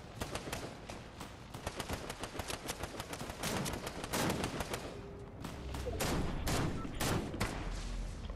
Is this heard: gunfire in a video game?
yes